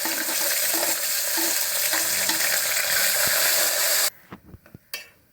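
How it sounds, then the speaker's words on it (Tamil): Onion, green chilli and curry leaves fry in hot oil with a loud, dense, continuous sizzle that cuts off abruptly, leaving a few quiet clinks and stirring knocks. "வெங்காயமும் பச்சை மிளகாவும் கருவேப்பிலையும் ஒன்றா சேர்த்து வதக்கிக்கலாம்"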